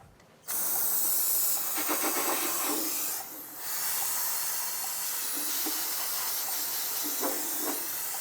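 Parts cleaner sprays in a loud, close, steady hiss over the oil drain area beneath a Nissan Altima, with a short pause partway before spraying resumes.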